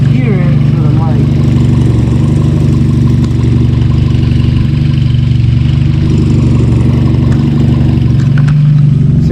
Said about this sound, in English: But I still have that exhaust leak